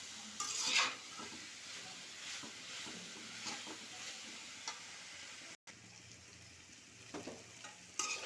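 Papaya curry being stir-fried in a pan, a soft, quiet sizzle with intermittent scrapes and clinks of the spoon against the pan and a brief dropout in the middle.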